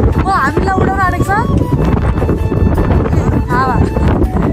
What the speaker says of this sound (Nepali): हावा ओ माय गॉड ओ हामीलाई उडाउन आँटेको छ